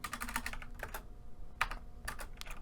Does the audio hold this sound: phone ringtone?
no